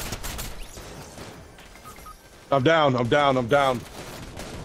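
Gunfire in Fortnite sounds through the first half as a dense, moderately loud burst of shots, then a player's voice speaks over the game audio near the end.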